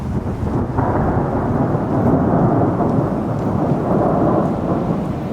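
Deep, steady rumble of thunder rolling on and on, with a broad wash of rain-like noise, loud and continuous throughout.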